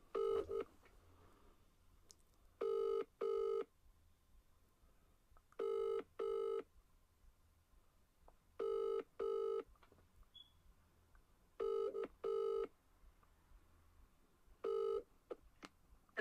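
Ringback tone of an outgoing phone call on a Vodafone line before voicemail answers: a steady repeating double ring, two short buzzing pulses then a pause, cycling about six times over a faint hiss with no talking.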